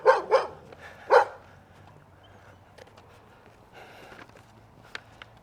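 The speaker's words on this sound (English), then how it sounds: "And a couple of barking dogs." Dogs bark in a suburban street in Padbury, Perth, Western Australia: three sharp, fairly close barks in the first second or so, then quiet outdoor ambience with faint distant sounds.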